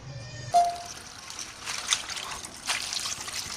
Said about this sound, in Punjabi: ਪਾ ਰਹੇ ਆ ਪਾਣੀ